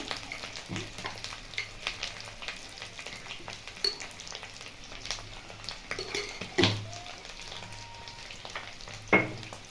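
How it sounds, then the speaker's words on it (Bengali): Diced potatoes frying in hot oil for raw banana kofta curry, a soft, continuous sizzle close by, broken by occasional scrapes and clinks of a spatula stirring against the pan. "আলু নিয়ে ডুমো কেটে নিয়েছি, ভেজে নেব।"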